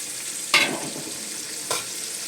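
Crushed garlic hits hot oil in a pan with a sudden loud sizzle that fades over a second, followed by a second shorter burst of frying, close up with no talking.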